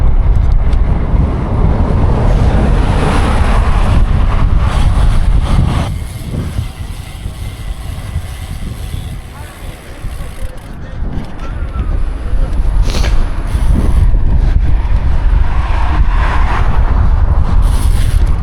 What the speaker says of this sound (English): I don't know if you can hear the wind, I bet you can.